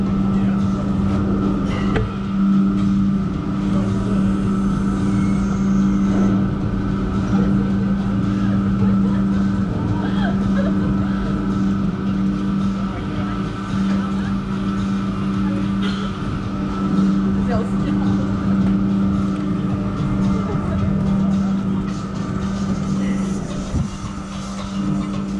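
A car drives along a road, its engine and tire noise forming a steady, close drone throughout, with muffled voices of passengers talking inside over the hum.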